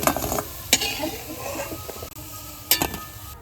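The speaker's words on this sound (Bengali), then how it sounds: "এরকম ভাবে আমি সবগুলা বড়া তাড়াতাড়ি করে ভেজে নিচ্ছি" Fritters made with cauliflower and masoor lentils fry in hot oil with a soft sizzle, broken by a few sharp clinks of a utensil against the pan, close by and with no talking.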